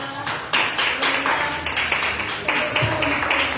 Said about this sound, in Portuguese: Aplausos em nome de Jesus.